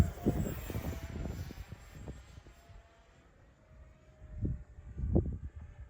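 Small RC jet with a cheap electric ducted fan on a 4-cell 2200 mAh pack, run at half throttle: a steady whine with several louder surges near the start and end, close by and with no talk.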